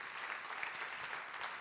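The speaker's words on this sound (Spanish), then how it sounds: "Dale un aplauso al Señor" A church congregation claps together in a brief burst of dense applause that holds steady at moderate volume for under two seconds.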